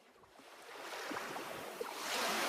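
Surf washing onto a haunted shore builds as a soft, broad rush of breaking water, swelling louder near the end, with some wind mixed in and no voices.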